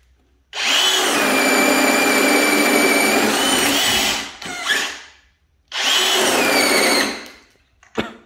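A DeWalt cordless drill runs at high speed twice, each whine lasting several seconds before winding down, followed by short clicks and handling noise.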